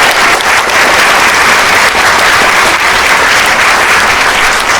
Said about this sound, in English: one big round of applause for these students